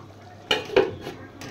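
A metal lid set down on a pot of cooking potatoes gives two or three quick clinks and a short rattle, close by and fairly quiet.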